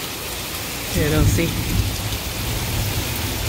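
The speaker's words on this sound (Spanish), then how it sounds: "Pero le está soltando ahora sí, gracias a Dios, hay lluvia." Steady rain mixed with small hail pours down outdoors as a continuous broadband hiss, with a brief voice speaking over it partway through.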